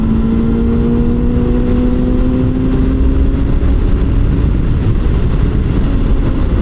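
Sportbike engine held at high revs in sixth gear, a loud continuous drone with a steady tone that slowly rises in pitch, running unbroken throughout with heavy wind rush and no talk.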